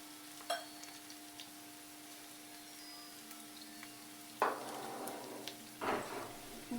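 Pieces of meat being fried in a pan for karela gosht, a quiet, steady sizzle under low kitchen hum, broken by two louder bursts of stirring and scraping near the end.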